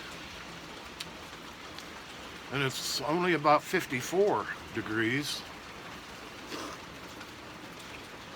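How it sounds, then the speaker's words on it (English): Steady patter of rain falling outdoors, heard from a porch, a soft continuous hiss throughout, with someone speaking briefly partway through. "It's raining out."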